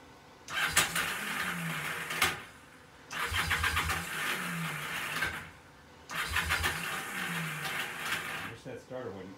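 A Kawasaki KZ750 motorcycle starter cranks the engine in three repeated bursts of whirring, each lasting a couple of seconds, with short pauses between.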